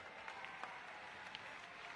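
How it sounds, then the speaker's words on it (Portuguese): Applause from the E3 2016 crowd greets EA Sports chief Peter Moore on stage during Electronic Arts' press event, a faint, distant, continuous patter of many hands. "Ele aí recebendo as palmas da galera"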